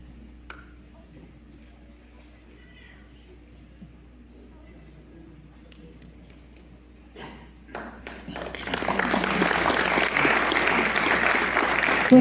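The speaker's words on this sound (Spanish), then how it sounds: "Fuerte el aplauso para el señor Vidal Sánchez" Audience applause for Vidal Sánchez, a founder of the Chijallta community, breaks out near the end after a quiet stretch with faint taps, then a loud, dense burst of clapping that holds steady.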